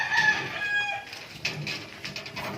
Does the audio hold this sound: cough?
no